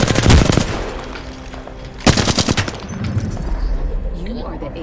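Bursts of automatic gunfire from an Apex Legends match ring out loud and close, one rapid volley near the start and a second around the middle, with a player talking over the shooting.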